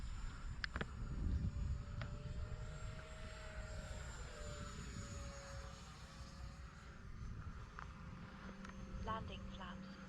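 A small Arrows Marlin model jet passes overhead on a windless day, its steady engine whine rising and falling as it flies by with flaps down, with wind noise and a few handling clicks close by.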